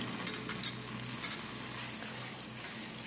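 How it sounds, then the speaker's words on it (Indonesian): Tom yum paste sizzles and fries in a hot pan while it is stirred, giving a steady crackling hiss broken by a few scraping stir sounds and no talk. "Lalu kita tumis-tumis juga kasih pasta tom ya kasih satu sendok setengah aja ya ditumis juga supaya berbau harum"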